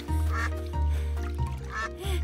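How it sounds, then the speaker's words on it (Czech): Ducks quack repeatedly over a bed of music, several loud, nasal calls spaced across the moment, close by. "podívej, to jsou kachny"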